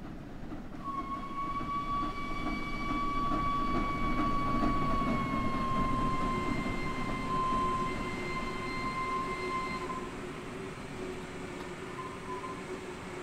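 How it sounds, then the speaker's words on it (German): A BR 01 steam special train in the Train Sim World 4 game passes along the line, a sustained rolling rumble with a long, steady whistle-like tone that fades after about ten seconds, no voices. "Könnte es hier mal entlang der Strecke positionieren und den Zug vorbeifahren lassen."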